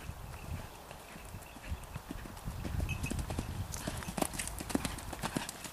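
Hooves pound in a quick galloping rhythm, growing louder and closer, with sharp thuds over a rough outdoor background.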